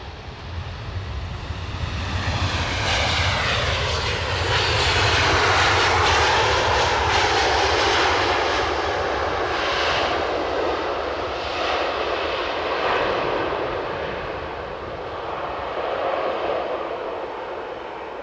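A WestJet Boeing 737 MAX 8 passes at Edinburgh airport, its engine roar swelling steadily to a loud peak midway and then easing off into a sustained rumble, with no voices over it.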